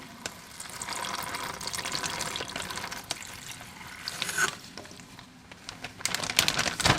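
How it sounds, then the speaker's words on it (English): Liquid marinade poured into a resealable plastic bag holding flank steak: a soft, continuous splashing and trickling pour, followed by crinkling plastic and small sloshing sounds, close by. "I'm going to put this marinade into this bag"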